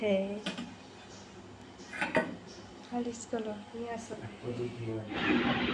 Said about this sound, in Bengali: এদিকে আমার বর আমাকে হরলিক্সটা গুলে দিচ্ছে